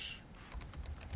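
A short, soft burst of computer keyboard typing: a few quick key taps entering a command on a Linux machine.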